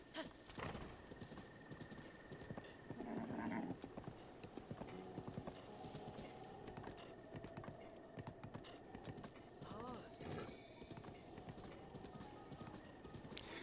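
Horse hooves clip-clopping at a steady gallop in Zelda: Breath of the Wild, rhythmic and continuous under game music, with a brief whinny partway through.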